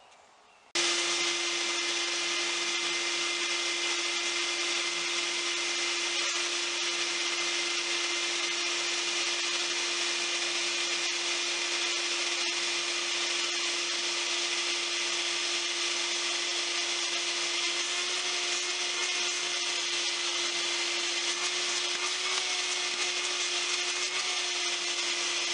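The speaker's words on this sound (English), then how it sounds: "the idea is to sand off what's on the surface of the wood and leave what's inside the pores" A power sander works steadily across a mahogany dresser top, removing grain filler from the wood surface; a loud continuous whine with a steady tone runs unbroken for the whole stretch, with no talking.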